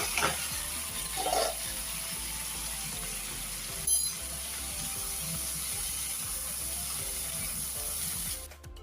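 Food sizzles and fries in a pan on a home stove, a steady close hiss running the whole time with occasional stirring clatter and one brief sharp scrape partway through.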